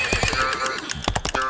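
A horse whinnies loudly and close, a shaky rising neigh with a rapid tremolo. A second burst follows after a brief pause.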